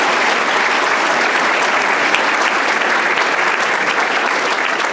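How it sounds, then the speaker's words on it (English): An audience at a City Club of Chicago speech breaks into dense, loud applause, a continuous wash of many clapping hands close by that holds steady for the whole stretch. "How about a big round of applause for that young lady?"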